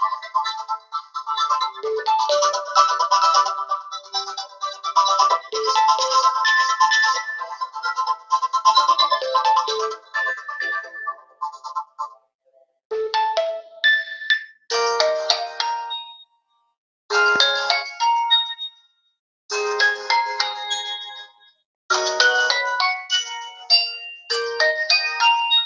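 An OPPO A77s phone plays a series of ringtones and chimes through its stereo speakers: bright, melodic tones in short bursts with brief silences between them, close and clear.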